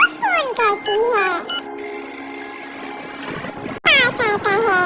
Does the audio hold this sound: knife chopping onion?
no